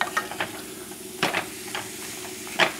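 Chopped vegetables for carrot soup sweating gently in a pot, a soft steady sizzle broken by a few brief stirring scrapes and clinks.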